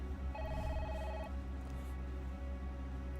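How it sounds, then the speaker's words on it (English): Telephone ringing in the Parasite Eve video game, a steady electronic ring with bright repeating tones for about a second, then fading into a continuous background hum of game music. "Oh, and by the way, phone!"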